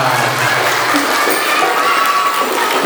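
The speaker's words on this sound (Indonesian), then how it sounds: "Ya, tepuk tangan dulu untuk kita semua." An audience claps during an Isra Mi'raj religious lecture, a loud continuous wash of applause with crowd noise mixed in, steady throughout.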